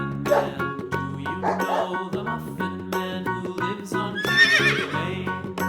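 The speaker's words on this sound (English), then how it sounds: "horse," A horse whinnies, a rising, shrill neigh near the end standing out over steady background music with plucky, rhythmic accompaniment.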